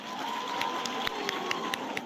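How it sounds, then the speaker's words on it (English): Audience applause at a Tshwane University of Technology autumn graduation ceremony, a steady wash of clapping and cheering from a large crowd that fills the hall continuously, with sharper individual claps and shouts popping out. "Another round of applause,"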